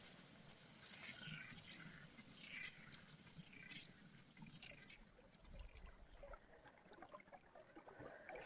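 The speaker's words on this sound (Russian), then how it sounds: "Слышно, как река булькает." River water gurgling and trickling beneath a frozen ice hole in the taiga, soft intermittent bubbling close by with a faint wash behind it.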